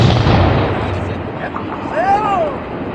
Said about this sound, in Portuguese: O trecho de encosta rochosa foi detonado em questão de segundos.